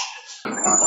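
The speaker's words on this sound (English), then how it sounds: "Oh, these are the dogs." Dogs bark close by in one short, loud outburst with a whimpering edge. No one talks.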